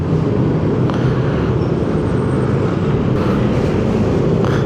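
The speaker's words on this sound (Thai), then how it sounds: "เสียงเหมือนมีตัวแรงอย่าง MT07 มาแน่ๆ เสียงมันครอกนะ" On a congested city road with cars and a bus, a loud, low engine rumble from a powerful motorcycle like a Yamaha MT-07 passes close by, a dense steady growl with brief swells over traffic noise.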